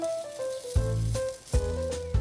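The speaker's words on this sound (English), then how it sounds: "Those will need to sizzle away for about 10 minutes." Bursts of sizzling noise swell and fade over a steady tonal hum, close and moderately loud, as chicken sizzles on a grill.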